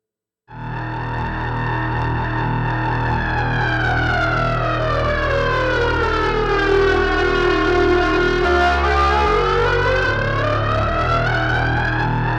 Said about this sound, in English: This is the audio delay.